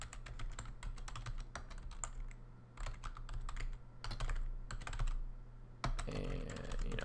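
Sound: typing domains on a computer keyboard

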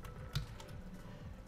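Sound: typing on a computer keyboard

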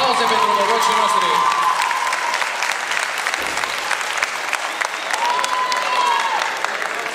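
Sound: audience applause at a school freshman ball

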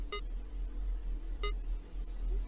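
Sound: phone ringing in the video game Five Nights at Candy's 2

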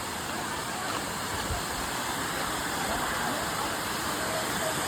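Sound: Vyaghreshwar waterfall at Kasmal, Pen

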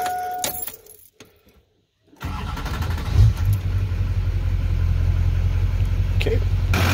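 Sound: diesel vehicle engine starting

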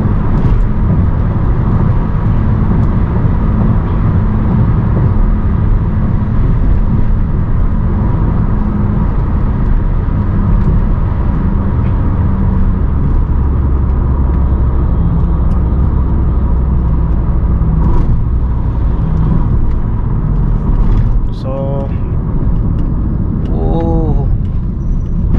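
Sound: car engine revving hard with the pedal floored

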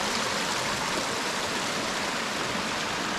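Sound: Saraswati river, Alaknanda tributary, flowing at Mana village

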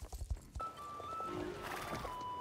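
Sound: horse hooves walking, video game Star Stable Online

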